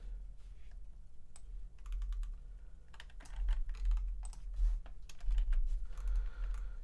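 Computer keyboard typing while code is written, a steady run of quick, irregular key clicks with short pauses and denser bursts, close and fairly clear over a low background hum.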